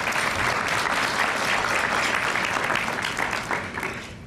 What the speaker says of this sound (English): Applause for that group.